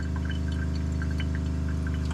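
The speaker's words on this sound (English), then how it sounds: "let that pump catch up. It is filling that hot water tank" A 2021 Aspen Trail 1950BH travel trailer's water pump works hard while filling the hot water tank during de-winterization, giving a steady droning motor hum over continuous running and splashing water, with no talking.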